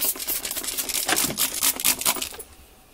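Rapid bursts from a spray bottle aimed at a cat, a quick run of sharp, hissing spritzes close by, fairly loud and with no talk over them.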